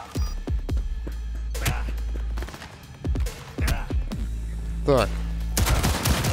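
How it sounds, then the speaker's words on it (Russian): Scattered bursts of gunfire in Cyberpunk 2077, single shots and rapid strings, over a low throbbing hum, with a brief spoken word. "Что за стрельба?"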